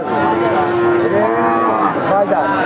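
A cow moos loudly and close by, a long drawn-out low call over the murmur of a busy cattle market selling thin, bony cows in Barobazar.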